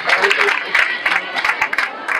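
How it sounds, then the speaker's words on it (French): Audience claps at a school ceremony at a lycée in Keur Massar, dense close applause with cheering from a crowd, steady and loud over the full length. "Et je voudrais, sous vos applaudissements, remercier Mme Dia Ndeye Kodou Gueye"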